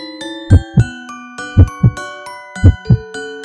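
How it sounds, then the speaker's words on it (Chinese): A heartbeat in a narrated picture-book story about a girl hiding in a basket: three evenly spaced pairs of deep, soft lub-dub thumps over sustained, gentle tonal music. "他听到自己的心脏在跳动"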